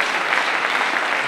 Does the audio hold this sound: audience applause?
yes